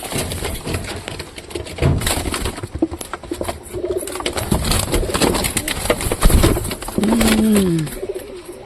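Pet pigeons coo and flap their wings while being held and handled by hand, low soft coos rising near the end over rustling and patting sounds, with close handling noise throughout.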